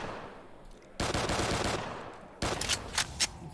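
Bursts of rapid video game gunfire, a sustained volley followed after a short gap by a second burst with sharp individual shots, loud and close.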